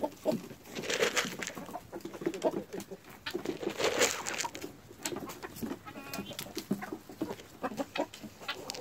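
Busy outdoor chicken chatter with clucking and cooing calls, moderately close, scattered irregular calls over a continuous background.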